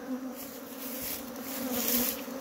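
A swarm of honey bees is driven into a hive box during a rescue, giving a steady, dense buzzing drone close to the microphone that swells slightly toward the end.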